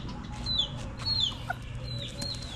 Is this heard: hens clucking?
yes